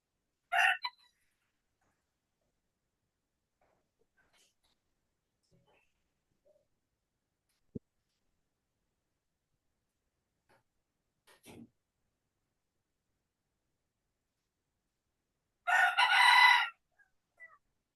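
A real rooster crows in two short bursts, one right at the start and a louder, fuller one near the end, with near silence between.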